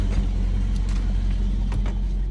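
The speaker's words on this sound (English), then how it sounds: "It's the first time I'm riding in the GT63S." A Mercedes-AMG GT63S, heard from inside the cabin, gives off a low, steady engine rumble with a few light knocks and rustles over it, close and moderate in level, with no speech.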